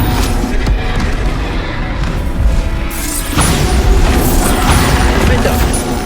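Bombarda blasting spell in Hogwarts Legacy going off amid combat, loud crashing booms and bursts layered over dense battle noise, with a voice shouting in the mix.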